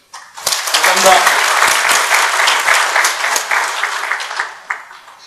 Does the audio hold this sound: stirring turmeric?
no